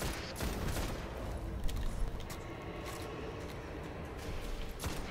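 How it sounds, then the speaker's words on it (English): Gunfire in the video game Destiny sounds as a continuous volley of distant shots under a constant background din, with a few sharper bursts. "Everything's already shooting at us."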